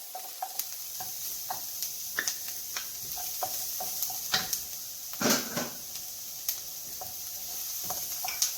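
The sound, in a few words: minced garlic added to sizzling onions in a pot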